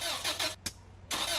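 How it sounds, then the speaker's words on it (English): A car engine starting, used as a sound effect in a radio advertisement: loud, broad cranking roar that cuts out briefly, gives a single sharp catch, then surges back in full. "That's the sound of your car about to cost you a lot of money."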